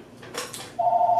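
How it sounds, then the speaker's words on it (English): A telephone rings in a boardroom, a steady electronic trill that starts partway through and holds on after a few soft rustling, clicking handling noises. "The phone rings in the boardroom."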